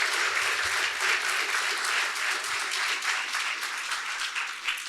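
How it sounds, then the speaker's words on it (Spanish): A church congregation breaks into loud, steady applause that fills the space for several seconds with no voices over it. "Give an applause to the word of God."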